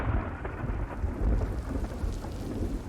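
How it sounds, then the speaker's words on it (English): Rain and rolling thunder in the video game The Life and Suffering of Sir Brante, a dense steady patter of rain under low rumbling thunder that swells and fades. "The sound of rain and gentle rustling of the silver tree calm you."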